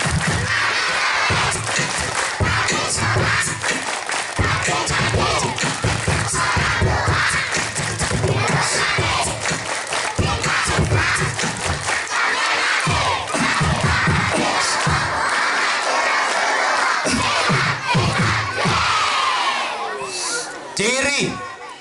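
A crowd of children chants and claps in unison for the tepuk anak soleh clapping chant, loud rhythmic group shouting and hand claps continuing at length, with a leader's voice at times.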